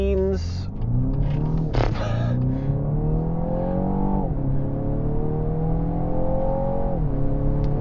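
A BMW X235i crossover's engine revs up hard through several gears, its pitch climbing and dropping at each shift, loud and close.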